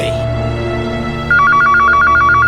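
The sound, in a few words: telephone ringing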